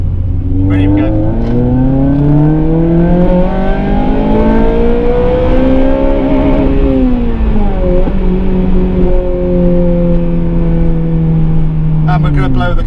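A car fitted with a Japspeed single exit exhaust, engine note rising and falling through loud close revs and gear changes, held steady for long stretches inside the cabin.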